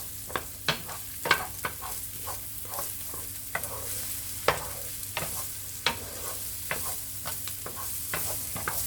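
Shiitake mushrooms brown in a pan with butter, garlic paste and rosemary oil: a steady close sizzle punctuated by sharp clicks and spatters at an irregular pace, with a low hum underneath and no talking.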